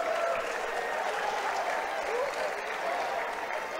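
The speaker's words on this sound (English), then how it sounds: "let's give both fighters a big round of applause" Steady crowd applause fills the venue for both fighters after a three-round mixed martial arts bout, dense clapping and cheering holding at an even level throughout.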